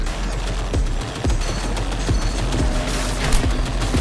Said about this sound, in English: I have a giant ass walking thing shooting at me.